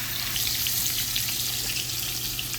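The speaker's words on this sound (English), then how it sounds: "It's sizzling up nicely" Chicken thighs sizzle and fry steadily in a cast iron pan, a close, continuous crackling hiss over a low hum, with no voices.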